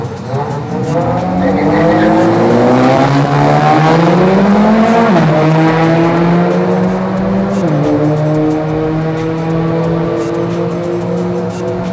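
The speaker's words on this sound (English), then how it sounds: "I've noticed the car actually sounds different out the exhaust, for the better as well" A Mitsubishi Evo 9 wagon launches down a drag strip on new tyres, its engine loud and close as it climbs through the revs, shifting gear twice with brief drops in pitch, under a sustained tyre squeal.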